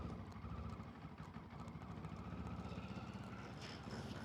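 A CF Moto 700MT motorcycle engine during slow riding, a low, even rumbling drone that stays steady and faint throughout, with no talk.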